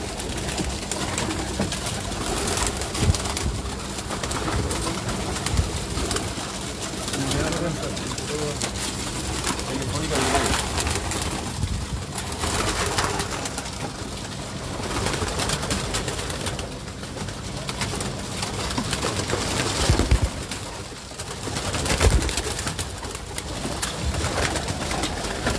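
Red-crested pigeons kept by a fancier in Pakistan coo repeatedly and fairly close, with a faint flutter of wings and occasional voices in the background.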